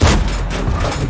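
A tank cannon shot from World of Tanks rings out as a single loud, close boom that fills the whole short moment, with a dense rumbling tail and no talk.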